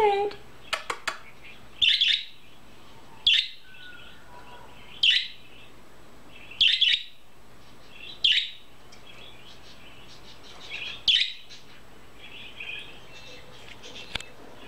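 A pet budgie chirps in short bright bursts, six or seven clusters of high tweets spaced a second or two apart, close and clear over a quiet room with faint low hum.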